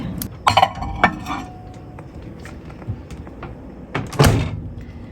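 A microwave door is opened and handled in a small kitchen before cream cheese is heated, giving several sharp clicks and clinks of a latch, glass and dishes, close by and spaced out, with a louder clatter near the end.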